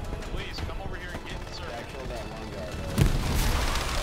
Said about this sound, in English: They got artillery coming in.